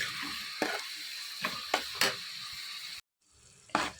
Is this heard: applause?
no